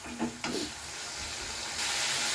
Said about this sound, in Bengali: এবার আমি মশলাটা খুব ভালো করে কষে নিলাম।